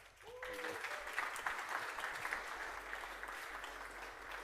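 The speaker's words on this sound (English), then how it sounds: "Big applause for him." A conference audience at a reverse-engineering event applauds as the next presenter is introduced, steady mid-level clapping filling the room for a few seconds after a brief spoken bit at the start.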